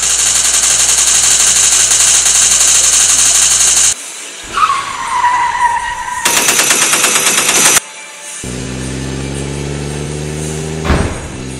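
A Lego stop-motion action scene carries a long, loud burst of rapid machine-gun fire, then whooshing effects and a dense rattling volley, ending in a rising whine.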